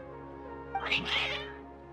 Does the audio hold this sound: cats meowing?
yes